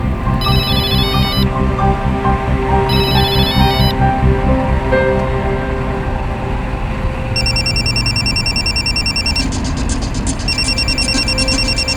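A phone ringtone trills in repeated electronic bursts, loud over steady background music.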